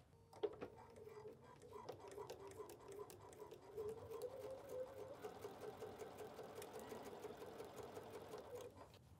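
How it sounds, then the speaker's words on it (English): A sewing machine stitches fabric for a quilting project in a steady, fast mechanical patter, quiet and continuous, with no talking. "you get this machine sewing and then sew right onto your project"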